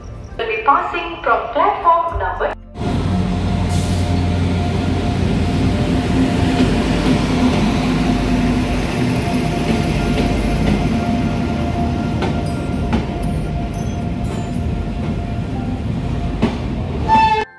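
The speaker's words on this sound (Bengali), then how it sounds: "সেই ঐতিহ্যবাহী ট্রেন শিয়ালদা লালগোলা প্যাসেঞ্জার" The Sealdah–Lalgola passenger train rumbles loudly along the rails at Barrackpore station with a steady roar and rhythmic clatter; voices are heard briefly at the start before the noise swells.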